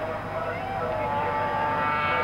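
Racing sidecar motorcycles at the 1983 Bathurst Sidecar GP, including a Yamaha 700 outfit, give a steady, continuous engine drone throughout, with a race commentator talking over it.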